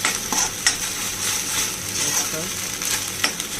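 Ginger-garlic paste being stirred into a pan for paneer masala, with a spoon scraping and clinking against the metal in short, uneven strokes over a soft, steady hiss from the pan.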